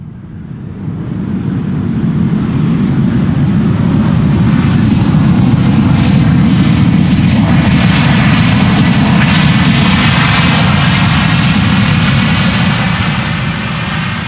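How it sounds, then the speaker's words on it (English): A passenger airliner arriving at Schiphol Airport from Dublin, Ireland, roars loudly and steadily overhead, its engine noise building in the first seconds and holding near and powerful throughout with no talk. "This airplane is arriving from Dublin"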